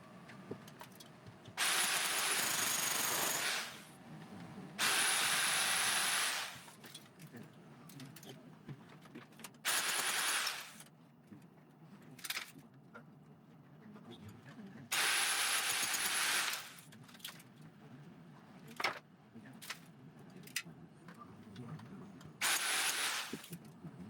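Power drill boring a conduit hole through the wall of an 1850s house in the South of France, in several loud bursts of a few seconds each, separated by quieter pauses with handling noise.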